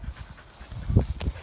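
A dog pants in short, quick bursts close by on a half-shaded, half-sunny outdoor spot, soft breathy puffs with a faint whimper near the end, no talking.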